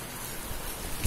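Heavy rain that has suddenly begun pours down steadily outdoors in changeable English weather, a dense broadband hiss of drops with a brief louder splash near the end and no talking.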